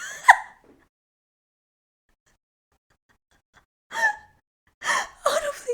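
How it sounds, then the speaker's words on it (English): A single sharp, audible gasp rings out alone at the start, followed by silence and then a few short breathy vocal bursts near the end. "Audibly gasp."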